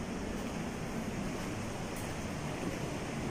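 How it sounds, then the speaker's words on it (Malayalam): Water flowing down from the hills above inside the Ajanta caves, a faint, steady rushing wash that stays constant and even throughout, with no voices. "മുകളിൽ നിന്ന് വെള്ളം ഇങ്ങനെ ഒഴുകി വരുന്നുണ്ട്"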